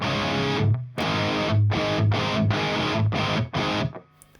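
Distorted electric guitar played through a Two Notes Cab M+ cabinet simulator with a little reverb, loud repeated chugging chords in a steady rhythm with short gaps between them.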